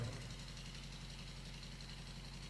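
A generator runs during a church sermon after a power cut, giving a faint, steady low hum and drone with a slight rhythmic throb, continuous and even, with no speech.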